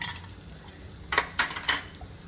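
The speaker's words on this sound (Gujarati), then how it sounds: "તો જુઓ તેલ આવી ગયું છે એટલે આમાં હું થોડું નાખીશ જીરું" Three sharp metal clinks of a spoon against a cooking pan as cumin seeds and asafoetida go into hot oil, over a faint low sizzle in a home kitchen.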